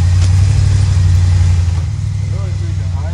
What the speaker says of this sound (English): 419 Ford stroker motor.